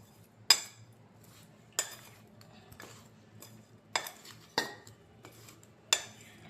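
Mango pickle ingredients with fenugreek seeds are stirred in a bowl, a spoon striking the side in six sharp, separate clinks spaced about a second apart over a quiet background.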